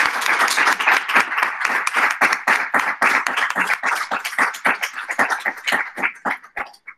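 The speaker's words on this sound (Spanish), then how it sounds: "me gustaría dedicárselo a ella y darle un fuerte aplauso" Audience applause at a kizomba conference on a university campus in Alcoy, a burst of fairly close, rapid clapping from a modest crowd that holds strong, then thins into scattered claps and fades out.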